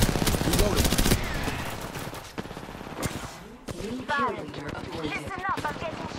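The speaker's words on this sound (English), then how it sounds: "I'm getting shot at" Gunfire in the video game Apex Legends: rapid automatic bursts and scattered single shots crackle loudly and close, thinning out midway, with voice-like tones weaving through the later part.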